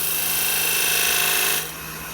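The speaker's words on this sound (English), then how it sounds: "Fire the lathe back up. About 1800 RPM." Wood lathe turning a napkin ring blank at about 1800 RPM, a steady close whir with a high hiss that suddenly drops to a quieter hum near the end.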